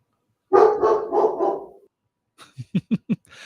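A dog barks nearby, first one drawn-out, howling bark, then a quick run of four or five sharp, evenly spaced barks after a short pause.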